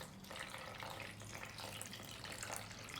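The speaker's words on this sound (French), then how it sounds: "Sonra 2 bardak su. On a 2 verres de l'eau. Tam mayanın ortasına." Water pours steadily into bread dough in a home kitchen, two glasses going into the middle of the yeast for Ramadan pide. It makes a soft, continuous splashing trickle with no talking over it.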